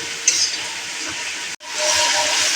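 Spices frying in hot oil while being stirred, before greens and lentils for a Bengali pui shak dal; a steady bright hiss with a short break midway, close and fairly loud, with no talking.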